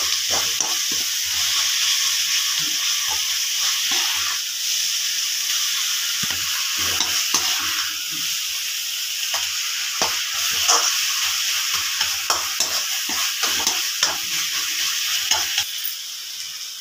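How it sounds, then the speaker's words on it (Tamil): Onion, tomato, capsicum and peas with turmeric sautéing in a pan for kaima idli, a steady loud sizzle and hiss with frequent stirring scrapes throughout, no voices. "வெங்காயம், தக்காளி, குடமிளகாய், பட்டாணி எல்லாம் நல்லா வதங்கிச்சு. நல்லா வெந்துச்சு."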